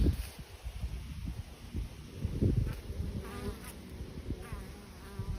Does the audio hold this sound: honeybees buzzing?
yes